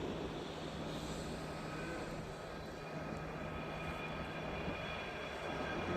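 A second train passes in the snow, a low, even rumble that holds steady and slightly distant throughout, with a faint engine-like drone and no voices.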